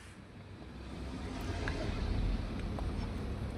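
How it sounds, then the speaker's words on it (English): Faulty washing machine in spin mode that does not spin strongly, producing a low rumbling hum that swells slightly and holds steady, close by. "now I put spin mode but not strong"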